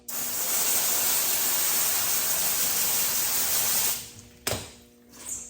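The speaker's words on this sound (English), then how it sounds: "To start by rinsing it off." Steady loud hiss of water spraying from a hose onto a car wheel with a whitewall tire for several seconds, then it cuts off, followed by a few drips and a faint knock.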